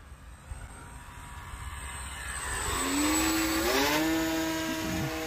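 A Flex Innovations Mamba 10 RC airplane in flight, its electric motor whine rising in pitch and loudness as it passes, steady and moderately near, with no voices.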